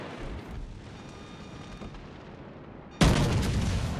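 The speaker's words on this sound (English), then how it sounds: "I will shoot the back guns at the other guy as they swing around" A warship's rear gun battery in World of Warships Legends fires a sudden, loud booming salvo that cuts through a quieter rumbling background and rolls on with a sustained roar.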